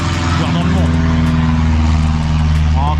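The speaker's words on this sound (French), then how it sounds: "Encore un avion qui passe" Propeller aircraft passing overhead near an airport, a steady loud drone of engine hum under continuous talk throughout.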